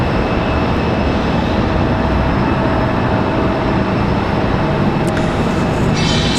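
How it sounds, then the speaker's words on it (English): Steady, loud broadband roar of a Breeze Airways airliner moving at Raleigh-Durham airport, unbroken for several seconds with no talking. "Breeze Airways on the move."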